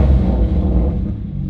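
Close, loud, low rumbling drone from an 800-horsepower supercar engine, warm rather than cold-started, sustained evenly and easing slightly toward the end, with no voices.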